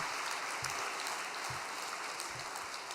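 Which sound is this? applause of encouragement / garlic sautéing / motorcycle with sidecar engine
applause of encouragement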